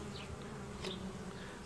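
Bees buzz steadily around a hive in Southern California, a continuous close drone with a faint passing whine partway through and no voices.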